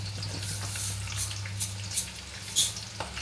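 Fenugreek seeds drop into hot frying oil, producing a soft, steady sizzle with a few small crackles and pops near the pan.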